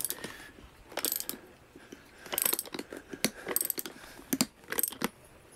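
A Mantis crossbow's mechanism ratchets from low to high power, a series of close, crisp metallic clicks and clacks in irregular bursts, with quiet pauses between them.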